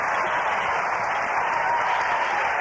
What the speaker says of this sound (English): The crowd here at the Civic Center going wild as the Huskies now have scored 8 straight unanswered points